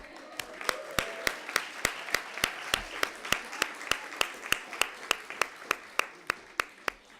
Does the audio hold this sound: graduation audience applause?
yes